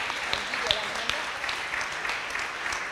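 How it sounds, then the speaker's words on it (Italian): An audience at an awards ceremony for the Certamen Fortunato digital section prize-giving in Basilicata applauds in a steady, even wash of clapping with a few sharper claps standing out, heard from a moderate distance. "Fate pure l'applauso"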